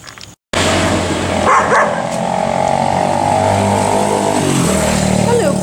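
On a street in Chiang Mai, Thailand, a puppy gives a few short barks among loud, steady motor noise, with people talking nearby.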